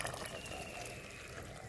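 Moong dal simmering in a pot for kheer gives off a faint, steady bubbling and low watery churn that continues evenly throughout, with no talking.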